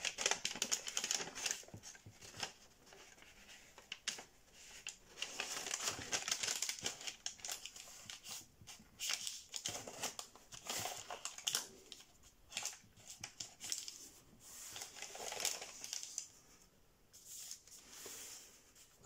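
Sheet of paper being creased and folded for an origami blue shark, a steady close run of soft crinkling, rustling and tapping with brief pauses between folds.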